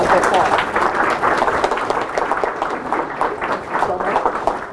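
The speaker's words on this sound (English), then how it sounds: "join me in giving him a round of applause" An audience at a college executive speaker series gives a round of applause for the guest speaker, dense continuous clapping with voices mixed into the crowd noise.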